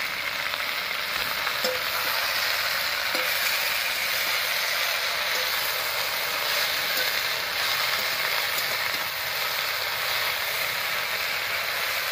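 Water spinach frying with garlic in a pan, a steady loud sizzle with faint stirring scrapes throughout, close up with no talking.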